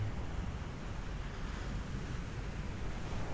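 Sea waves wash onto the shore at dusk as a steady, dense roar with gusty wind buffeting the microphone, continuous and fairly close, with no voices.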